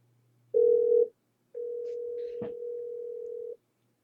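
A short steady electronic tone from a PBX phone after a blind call transfer, then a pause and a longer sustained beep with a brief click partway through, clear and close.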